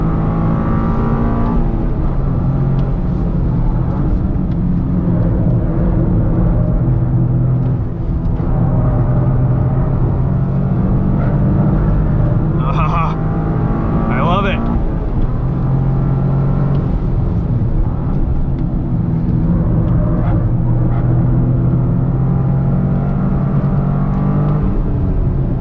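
A Toyota GR Corolla Circuit Edition, running without cup tires, pulls hard out of a corner with a loud, steady engine drone and rising revs that hold close and continuous for the whole stretch.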